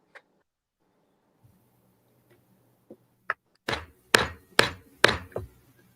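A hammer strikes leather on a workbench during a leatherworking session, with a few light taps followed by a quick run of four or five loud, sharp whacks close by, no talking.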